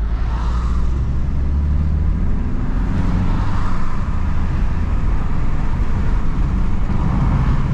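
A car engine drones loudly and continuously while accelerating in automatic mode, a low rumble with road noise that rises and settles as the gearbox moves up a gear.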